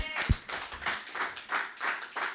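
Church congregation claps together in a steady rhythmic beat, about three claps per second, moderately loud and close, with no talk over it.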